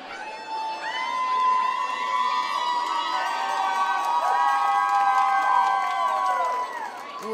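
Crowd at an awards show red carpet cheering and shouting continuously, with high children's voices and whoops layered into a steady, loud roar of excitement.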